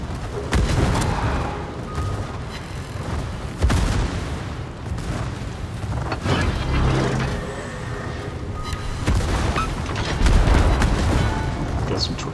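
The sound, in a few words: ship gunfire and torpedo hits, World of Warships video game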